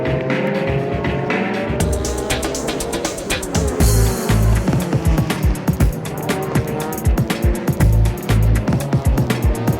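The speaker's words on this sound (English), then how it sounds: "Ara and the AU Sermo Supra just can't seem to get by the slower backmarker cars." JGTC race cars, among them the AU Sermo Supra, lapping a track that is partly drying, with loud engines revving and shifting and several cars roaring close past one after another.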